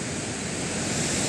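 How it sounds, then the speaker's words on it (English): A mountain river near Shimla rushing at full force, heard as a steady, loud broadband roar of water without breaks or talk. "here we have the river with full force flowing now"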